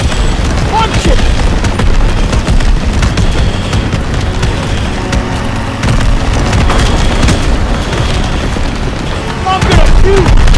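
Dense, continuous gunfire and booming explosions from the Call of Duty: World at War video game during a train mission, loud and sustained throughout, with voices shouting over the battle.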